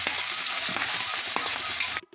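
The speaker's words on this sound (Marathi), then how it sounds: "कट केलेली मिरची आणि कांदा पण फोडणीला ॲड करायचं आहे" Chopped green chilli and onion hit hot oil in a kadhai tempering with garlic and asafoetida, a loud, close, steady sizzle with faint stirring clinks. The sizzle stops abruptly near the end.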